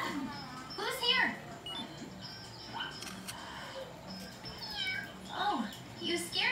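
A cartoonish kitten meows several times in a video game, short rising and falling cries spread across the clip over soft background game sounds, with light voice-like tones mixed in.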